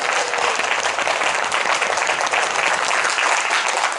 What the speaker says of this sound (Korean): 우리 하나님께 큰 박수로 한번 영광 올려드려요.